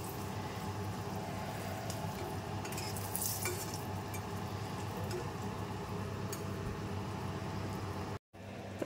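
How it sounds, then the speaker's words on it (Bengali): Eggplant slices rubbed with salt and turmeric frying in a pan, a soft continuous sizzle and bubbling heard up close at low level, with faint stirring and a short cut near the end. "এই যে বেগুন ভাজা হচ্ছে"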